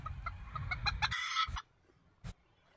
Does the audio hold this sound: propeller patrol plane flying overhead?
no